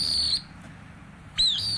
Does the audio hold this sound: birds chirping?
yes